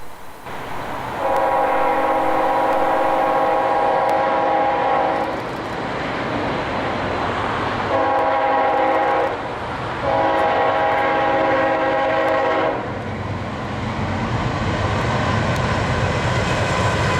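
An EMD SD45 diesel locomotive with its 20-cylinder engine sounds its horn in loud sustained chords, three long blasts with short gaps, over a steady rumble of the moving train, with no talking.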